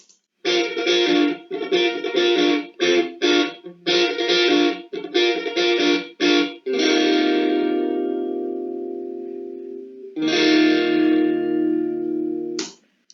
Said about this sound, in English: We have added a guitar riff in here